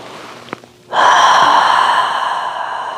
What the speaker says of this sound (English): we're going to take an audible breath out